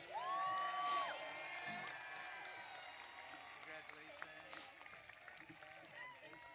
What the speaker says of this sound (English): Please join me in applauding these great scholars.